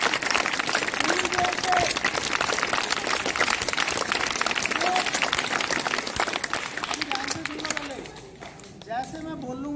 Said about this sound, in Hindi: लगाने से पहले जोर से तालियां बजाएंगे पूरी ताकत से